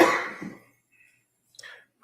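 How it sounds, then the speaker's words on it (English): A woman coughs in a courtroom, with one harsh, close burst that fades into rough throat noise, then a brief quiet before faint breathy sounds and a short clearing. "she's really got a bad cough"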